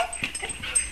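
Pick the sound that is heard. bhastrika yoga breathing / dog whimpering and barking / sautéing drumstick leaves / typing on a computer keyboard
dog whimpering and barking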